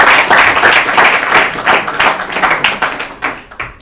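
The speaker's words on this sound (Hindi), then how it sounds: "ताली बजाइए।" Audience applause on an Urdu-language literary quiz show follows a correct answer: a close, loud burst of dense clapping that gradually thins and fades over a few seconds.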